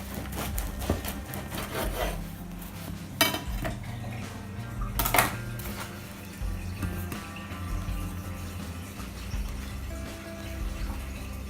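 A knife slices through bread for bunny chow, making repeated rubbing, sawing strokes and scrapes against a board, with occasional sharper clatters and knocks, all close and fairly quiet.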